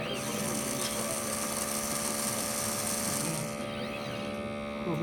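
A DoBot robot arm simulates sanding in a factory simulation setup, giving a steady, loud mechanical whir and hum with a high grinding buzz that drops away near the end.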